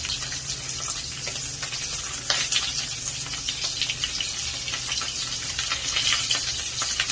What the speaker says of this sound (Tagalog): Kaya po, naisipan ko magpritong tuyo.